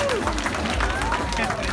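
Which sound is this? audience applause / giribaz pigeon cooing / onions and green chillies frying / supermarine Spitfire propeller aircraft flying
audience applause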